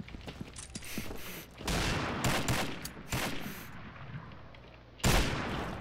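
Gunfire in the online shooter Combat Arms: bursts of rapid shots and sharp single reports in clusters, with mechanical clatter between them, loud and close.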